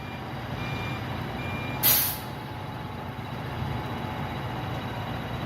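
A semi truck reverses to slide its tandems, sending a loud burst of air brake release over a steady engine idle and faint reversing beeps, with no talking.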